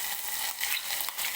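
Onion, garlic and coconut paste fries in hot oil, giving a steady soft hiss with faint stirring scrapes, brief and fairly quiet.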